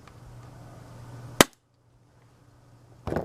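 A single sharp airsoft gun shot cracks once during an FPS shooting test, loud and close, followed by near silence and then a brief rustle of handling noise.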